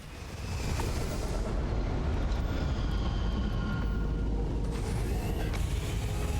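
A spaceship lifting off in the video game Starfield, a loud continuous rumbling roar of engines with broad low-end power, steady throughout with faint tonal whines layered on top.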